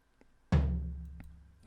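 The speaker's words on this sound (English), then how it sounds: "It's a tom." A single synthesized tom drum hit in FL Studio for an Afro tribal house beat: one deep, punchy strike with a long low decay, preceded by faint soft clicks, alone with no talking.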